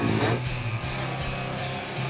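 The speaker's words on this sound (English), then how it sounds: "And the 2-strokes don't exactly purr." Two-stroke mini moto engines rev hard during a short race, a buzzing, raspy whine that rises and falls, fairly close, with several bikes overlapping in a continuous drone.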